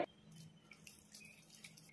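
Hot water poured into sambar rice with carrots as it cooks in a pot: faint, intermittent splashing and dripping over a quiet background hum, with no talking.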